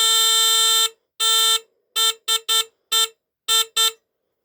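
A vintage 1965 Fedtro FA-1 fire heat alarm, made in Japan, blares a loud, high-pitched electric buzz in a long burst, then a second, followed by a string of short, uneven blasts with brief silences between them.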